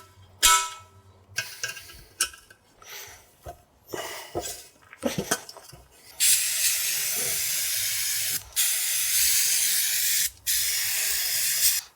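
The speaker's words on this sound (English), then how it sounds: "Now I'm gonna blow all the liquid off" Compressed air blasts liquid off a vehicle's differential in a long, steady loud hiss, cut by two brief pauses, after a few earlier short clanks and handling noises.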